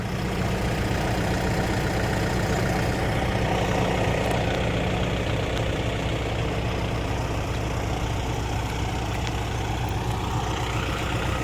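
Kubota L40 tractor engine idling steadily with a loud, continuous low rumble that holds constant throughout, heard up close with no talk over it.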